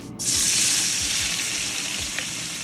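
Vegetables for Jamaican brown stew chicken frying in a pot: a loud, steady sizzle that bursts in abruptly and hisses continuously to the end, with no voices.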